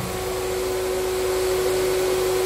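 A Graco 9.5 Pro Contractor HVLP spray gun's turbine runs with a loud, steady, unbroken whine and rushing air, close by and alone, with no change over the stretch.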